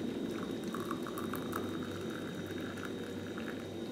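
Freshly boiled water poured into a glass makes a steady, continuous liquid trickle and splash, close and moderately quiet, with no voices.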